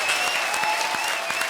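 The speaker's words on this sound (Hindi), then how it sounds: "ताली बजा रहा हूं।" Studio audience applause at a live comedy show, a dense, steady burst of many hands clapping that fills the whole short stretch at an even loudness.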